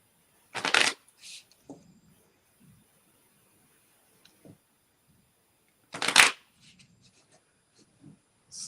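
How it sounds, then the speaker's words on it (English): Two quick bursts of card shuffling from a fresh deck of Star Trek playing cards fill a quiet room, each riffle lasting under a second and spaced several seconds apart, with small handling clicks between them. "Now I'm going to run out of cards, so you'll see me quickly shuffle"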